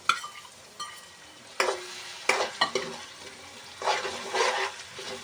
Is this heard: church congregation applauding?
no